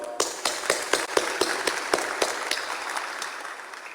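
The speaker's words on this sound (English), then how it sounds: "I applaud you." An audience at a world conference of the Sri Sathya Sai organization breaks into applause, with distinct claps standing out at first and then blending into a steady, moderately loud patter of clapping.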